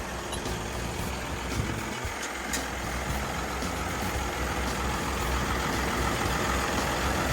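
A steady, even engine rumble of a Komatsu WA380-7 wheel loader idling nearby, constant and unchanging throughout with no voices.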